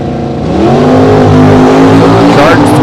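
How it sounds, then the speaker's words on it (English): At a drag race in Las Vegas, a Pontiac Firebird and a Factory Superstock Camaro idle and rev loudly close by, a deep throbbing engine roar that swells and holds, with an announcer talking over it. "Doug Broadus comes rolling in now, the D&B Engineering. Pontiac Firebird on the right-hand side"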